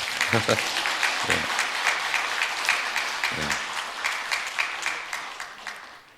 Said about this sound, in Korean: 박수 받는 건 처음입니다